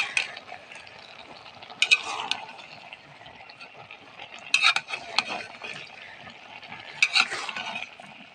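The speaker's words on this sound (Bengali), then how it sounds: "তরকারিটাকে আরেকটু ভালোভাবে নাড়াচাড়া দিই।" Dried fish curry with winter vegetables gets stirred in a cooking pot: three distinct bursts of scraping and spoon-on-metal clatter, roughly every two to three seconds, over a soft simmering sizzle.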